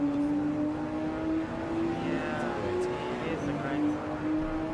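GT4 race cars at the Estoril circuit, two engines revving at once with overlapping tones that rise and fall, steady and fairly loud, a voice talking over them.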